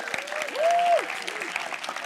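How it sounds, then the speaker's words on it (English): Applause from a hackathon closing ceremony crowd in London for Block.one's CTO, continuous clapping under a brief sustained tone, with a voice faintly present. "one more round of applause for him as well, the CTO of Block.one"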